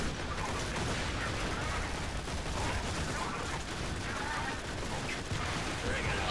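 Dense, continuous gunfire and mechanical clatter from the shooter game Borderlands 2 fill the whole stretch in a steady, noisy barrage.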